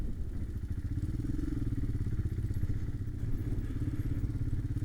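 A Honda 650 Transalp motorcycle churns through mud, its engine a low, steady rumble mixed with thumps and clatter, heard from nearby at moderate loudness.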